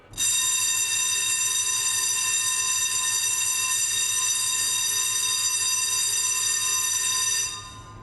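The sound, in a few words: ship fire alarm continuous tone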